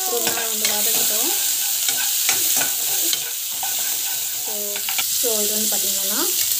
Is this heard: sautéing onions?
yes